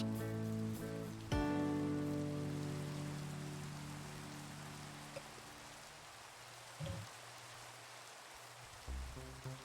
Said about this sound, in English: And I'm in the rain again.